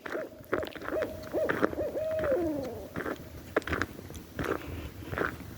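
Barred owls hoot at night on a rural road in Saline County, Missouri, with a run of rhythmic calls rising into a wavering cascade, moderately distant, followed by scattered faint crackling noises.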